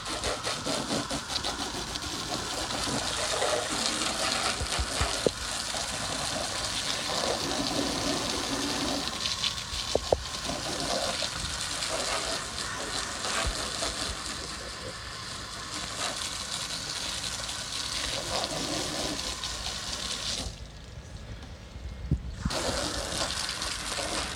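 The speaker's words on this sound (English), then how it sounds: "we're gonna go ahead and grab our hose, if I can find the end of it. Give this a good rinse." A garden hose sprays water onto a car to rinse off bug remover, a steady broad hiss running loud and close throughout, with a brief pause near the end before the spray resumes.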